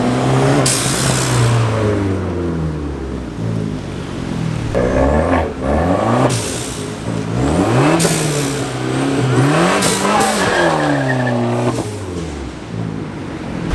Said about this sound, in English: Got the Abarth coming back down right now.